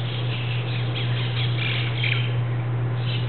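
Birds singing outdoors on Maui, Hawaii, near the ocean among palm trees and Norfolk pines: scattered chirps and calls over a steady low hum, with no voices.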